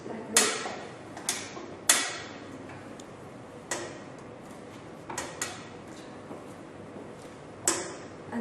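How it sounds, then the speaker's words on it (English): The rotating arm of a Perlong X-ray generator gives off scattered mechanical clicks and clacks, several sharp ones over a quiet hum, fairly close, with no talking. "The X-ray generator can also rotate like this."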